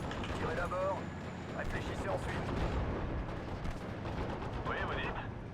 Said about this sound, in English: So hit that with the mortar.